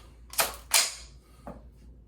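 A Ruger 10/22 rifle on an Azimuth Technologies custom build, dry-fired during a trigger function check: a few sharp metallic clicks close up, two in quick succession and a softer one after.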